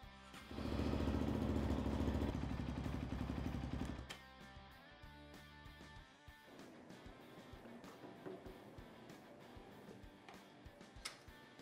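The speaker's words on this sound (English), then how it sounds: "we'll install the radiator cap, we'll leave it running for another minute" A Honda TRX450R ATV engine, freshly rebuilt with a Cylinder Works big bore kit, runs loud and close for a few seconds, then drops to a quieter idle with rapid ticking.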